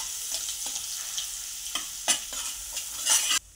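Ground spice paste frying in hot oil for mutton kheema sizzles steadily and loudly, broken by quick stirring scrapes, before cutting off abruptly near the end.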